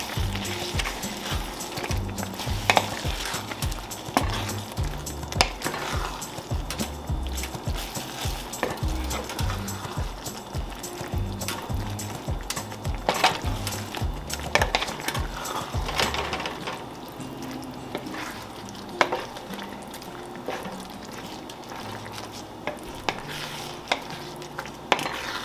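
Mushroom and pea risotto with cream and Parmesan stirred in a pan, a continuous thick, wet scraping with a rhythmic churn that eases off later, low sizzle beneath.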